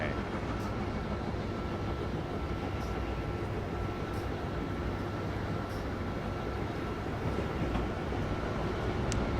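A train in Train Simulator 2017 on the Northeast Corridor in the US runs along the track with a continuous low rumble and steady rolling noise, plus a few faint high clicks.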